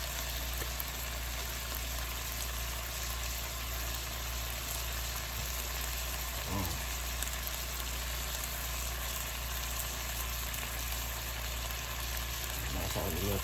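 Honey-glazed shrimp frying in a pan, giving a steady, fairly quiet sizzle that runs the whole time with a low hum beneath it and a couple of brief disturbances.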